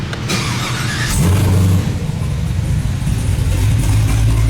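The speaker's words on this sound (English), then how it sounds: "I'm gonna fire the car up for you guys" A 6th-gen Chevrolet Camaro ZL1 with an LT4 V8 and a Stage 1 cam fires up, the starter catch giving way to a loud, lumpy idle rumble that continues close by to the end.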